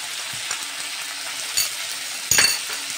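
Potatoes and vegetables fry in oil with turmeric and salt, making a steady close sizzle with a few light clinks and one short stirring scrape near the end.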